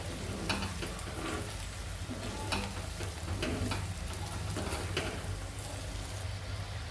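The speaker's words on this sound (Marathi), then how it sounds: "त्यात आपल्याला कोफ्ते जे आहेत ते फ्राय करून घ्यायचे गोल्डन ब्राऊन कलरवर आपल्याला ते फ्राय करायचे आहेत" Kofta balls deep-frying in oil until golden brown over a low flame, a steady close sizzle and bubbling with scattered crackles and occasional stirring clinks, continuous throughout.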